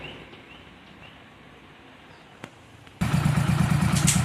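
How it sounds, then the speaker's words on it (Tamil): A motorcycle with a repaired seized engine starts after a quiet stretch and a single thump, then abruptly bursts into a loud, steady running drone close to the microphone. "இப்போ வண்டி நான் ஸ்டார்ட் பண்ணுறேன் பாருங்கள்."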